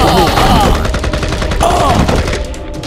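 Gunfight with rapid overlapping gunshots, a dense loud barrage of firing that continues without pause.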